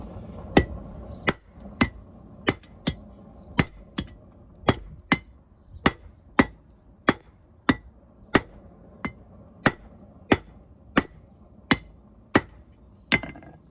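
Hammer striking a steel knife blade on an anvil at a new forge, about twenty sharp, ringing metallic blows at a steady unhurried pace, close and loud with no talk.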